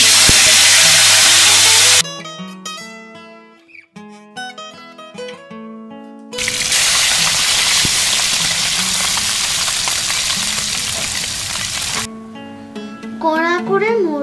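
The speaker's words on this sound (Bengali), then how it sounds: "তেল গরম হয়ে গেলে মোরলা মাছটাকে কড়া করে ভেজে" Small morola fish fry crisply in hot oil, making a loud, dense hiss that holds steady for several seconds, with music before and after.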